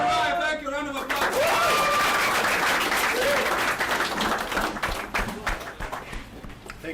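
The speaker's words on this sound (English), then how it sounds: "Round of applause." An audience at the BoyCode Africa Bootcamp bursts into a round of applause, dense and loud clapping mixed with shouts and cheers, holding steady before slowly thinning out toward the end.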